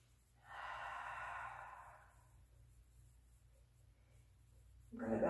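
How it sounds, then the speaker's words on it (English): Slow, deep breathing during a yoga child's pose: one long airy exhale near the mic fades out, a quiet pause follows, then the next breath begins loudly. "And then just take a few rounds of deep breathing."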